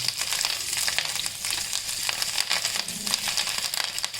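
Green chillies and coriander leaves frying in a little oil, a soft, steady crackling sizzle with faint crinkling and stirring, close and fairly quiet, no one speaking.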